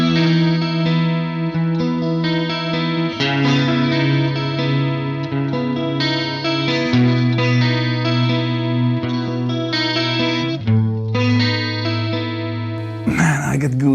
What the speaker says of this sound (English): Let's add a chorus.